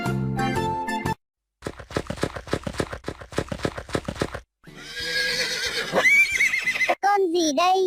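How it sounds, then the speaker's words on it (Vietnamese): A horse neighs loudly in a long, shrill whinny that rises and falls, following a stretch of children's music; bright and close, with a second shorter whinny at the end. "Con ngựa. Con ngựa."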